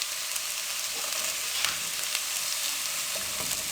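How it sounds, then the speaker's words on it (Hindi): Green chillies and lightly browned onions fry in a pan with a steady, close, even sizzle and faint stirring scrapes, with no voice over it. "अब सब्ज़ मिर्च को 1 मिनट के लिए इसको फ्राई करेंगे।"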